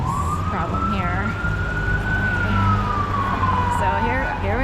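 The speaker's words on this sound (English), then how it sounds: "Ambulance." Ambulance siren passing along a city street in South Philadelphia, one long loud wail rising then falling as it goes by, over traffic rumble.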